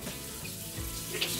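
Running water splashes steadily from a tap as hands are washed under it, a soft continuous wash with a brief louder splash near the end, no voices.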